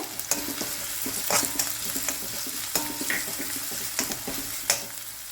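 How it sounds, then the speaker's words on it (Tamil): Onions and two green chillies sauté in a pan for aloo sabzi, giving a steady close sizzle broken by repeated sharp scrapes and knocks of stirring. "வெங்காயம் கொஞ்சம் நேரம் நமக்கு நல்லா வதங்கி வரட்டும்."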